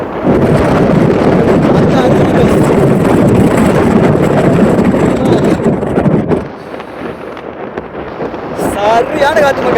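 A gusty wind sweeps across Kondarangi Hill, sending a loud rumble into the microphone that eases suddenly near the end, with people talking under the roar.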